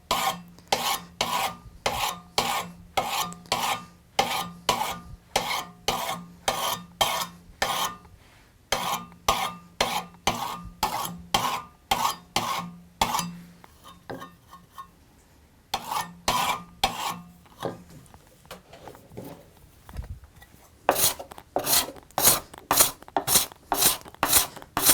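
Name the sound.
burnisher rubbed along card scraper edge to form hook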